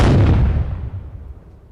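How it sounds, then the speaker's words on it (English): A single loud cannon blast booms out at once and then rolls away in a long, decaying rumble, with no voices over it. "Sound the cannons."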